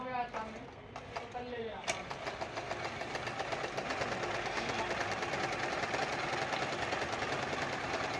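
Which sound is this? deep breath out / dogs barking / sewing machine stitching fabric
sewing machine stitching fabric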